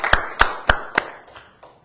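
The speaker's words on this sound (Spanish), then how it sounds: "Voy a aplaudirle al Rey" Four sharp, evenly spaced hand claps ring out in a church sermon setting, each trailing off in room echo, followed by a few fainter distant claps fading away.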